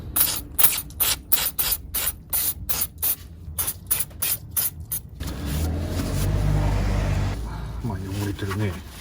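Short hissing bursts of carburetor cleaner sprayed onto the DISA valve of a BMW Z4 E85, about a dozen quick even puffs followed by a longer steady spray and clatter, with talking in the background.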